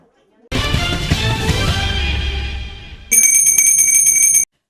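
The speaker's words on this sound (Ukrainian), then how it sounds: "Шкільний дзвоник пролунав у слідчому ізоляторі." A school bell rings at the start of the school year in a pretrial detention centre, first a loud wash of clanging, then a bright, steady electric ringing that stops abruptly.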